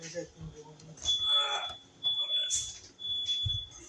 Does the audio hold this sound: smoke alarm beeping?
yes